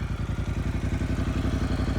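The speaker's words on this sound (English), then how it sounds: "That exhaust is just fantastic. Probably the best exhaust you can get for Ducatis." A 2015 Ducati Multistrada 1200S with a titanium Termignoni exhaust idles with a deep, rapid, lumpy exhaust pulse, loud and close, steady throughout.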